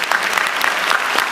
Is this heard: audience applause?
yes